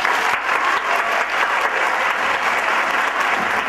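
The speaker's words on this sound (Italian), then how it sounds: "Per tutto questo, un applauso." An audience applauds steadily at an Italian theatre performance for Holocaust Remembrance Day, a dense, even wash of many hands clapping close and loud with no pauses for the whole stretch.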